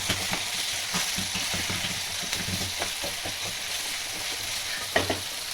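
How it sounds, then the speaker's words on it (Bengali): Sliced onions fry in hot oil to make crisp beresta, giving a constant bright sizzle broken by irregular scraping and knocking as they are stirred, with one sharper clack near the end. "প্রথমে আমি পেঁয়াজটাকে বেরেস্তা বানিয়ে নেবো।"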